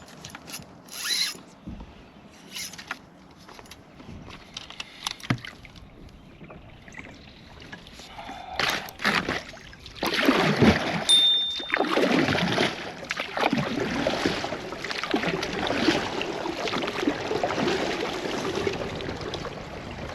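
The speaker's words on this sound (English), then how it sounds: "Let's take a look at the kayak performance in moderate current." Perception Outlaw 11.5 kayak paddled through moderate river current: quiet scattered paddle clicks and knocks at first, then louder sloshing water and rushing current build and carry on close by.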